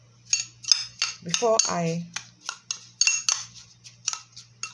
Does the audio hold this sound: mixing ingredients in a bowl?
yes